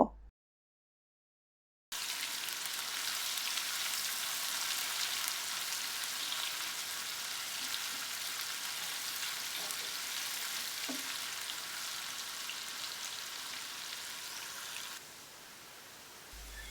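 Chopped ginger and garlic frying in oil in a wok, a steady hiss of sizzling after a brief silence, holding evenly for over twelve seconds with a faint scrape or two, then dropping slightly near the end.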